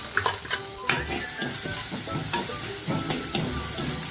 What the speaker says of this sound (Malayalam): ഇഞ്ചി പച്ചമുളക് വെളുത്തുള്ളി എല്ലാം കൂടെ ചതച്ച് വെച്ചേക്കുന്നതാണ് ഇതുകൂടെ ഇതിലിട്ട് കൊടുക്കാം